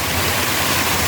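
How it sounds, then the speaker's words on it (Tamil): Floodwater pours over a road near Sathankulam in Thoothukudi district, a loud, dense, unbroken rush of water close by. "எவ்வளோ தண்ணி ரோட்டுக்கு மேலே வருது பாருங்கள்"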